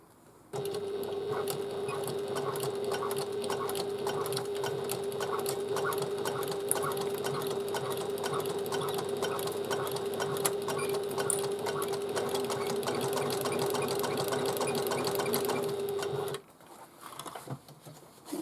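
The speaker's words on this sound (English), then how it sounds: "We're going to stitch at 1/4 of an inch seam allowance." A sewing machine runs continuously at a steady pace for about fifteen seconds, stitching a quarter-inch seam on a large bag, loud and close, then stops abruptly.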